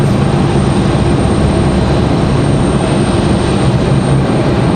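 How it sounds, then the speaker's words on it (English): A Republic Airways Embraer E175 arriving at Raleigh-Durham airport from Nashville produces a constant, loud, rushing jet roar that stays level from start to finish. "Like we've got Republic Airways at 4596 coming in from Nashville, Tennessee. Another E175."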